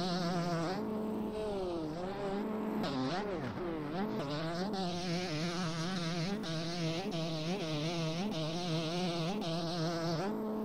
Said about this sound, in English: Can't tell if Diamond's on a 250 two-stroke or a 125.